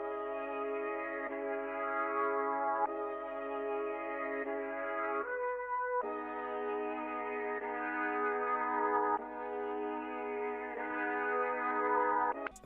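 A layered brass sample sustains chords in a repeating progression, smooth stacked tones shifting every couple of seconds, quiet and even with no voices.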